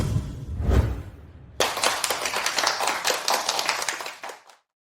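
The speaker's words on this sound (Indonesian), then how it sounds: "Mari kita berikan tepuk tangan." Office colleagues break into dense applause after a quarterly project report. A short murmur comes first, then a sudden burst of many hands clapping together for a few seconds before it stops abruptly.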